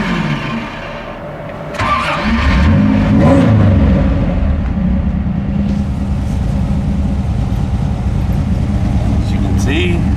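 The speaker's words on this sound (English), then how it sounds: "Let's go ahead and fire it up." A V6 engine in a Baja cranks and catches, then settles into a steady running idle with some revving, close and loud, with faint talk in the background.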